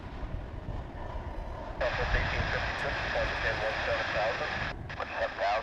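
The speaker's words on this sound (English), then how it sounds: "Here comes a 737-800 from Austin" A Boeing 737-800 airliner from Austin touches down on runway 18 right at DFW International Airport, its engine roar swelling abruptly and holding loud and broadband, with a brief dip near the end.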